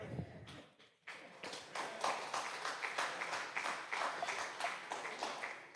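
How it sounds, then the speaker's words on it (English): Steady, sustained applause from a church congregation during a Sunday morning service, a broad wash of clapping that swells after a brief pause and carries on evenly without talk. "Thank you for that careful round of applause."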